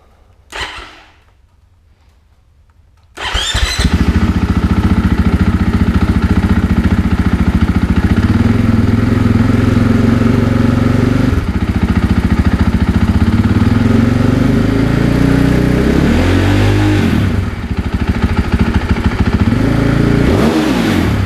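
After a brief starter whir, a Husqvarna FE 501s dirt bike engine with a billet exhaust end cap fires up and idles loudly and raspily, with several revs rising and falling, close up.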